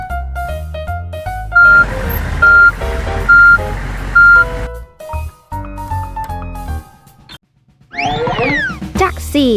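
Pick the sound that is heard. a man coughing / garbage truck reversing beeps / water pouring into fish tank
garbage truck reversing beeps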